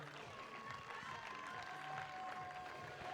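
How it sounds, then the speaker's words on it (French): Stadium crowd applauding a women's D1 football team at a blind football match, a faint, continuous wash of clapping and light cheering heard from a distance. "on peut les applaudir encore bien fort"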